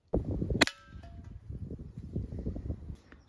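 A single sharp pop of a Beeman P17 air pistol shot close by, followed by faint rustling and handling noises.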